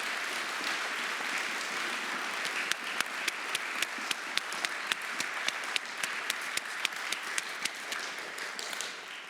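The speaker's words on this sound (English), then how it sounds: "let's give them all a round of applause" Audience applause at a high school spring orchestra concert, steady dense clapping with a few sharper individual claps standing out near the end, sustained throughout without speech.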